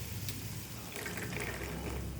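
Water poured from a tap or jug into a pan of soaked peanuts and masala gravy, a steady close splashing pour with a brief hiss of liquid hitting the hot mix, no talk.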